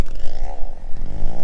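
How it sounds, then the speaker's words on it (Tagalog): A chainsaw cutting a fallen tree gives a short, close burst of rasping engine whine that dips and climbs in pitch as the chain bites the wood. "Nagche-chainsaw pa si Francis dun eh."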